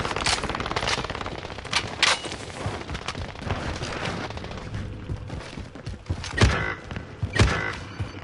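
Loud, continuous automatic gunfire in a video game, a dense rattle of shots with sharper heavy reports near the end, close and unbroken by talk.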